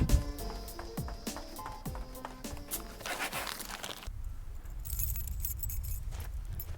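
A bunch of keys jangles and clinks several times in quick bursts close by, followed by a duller rustling shuffle, with no one speaking.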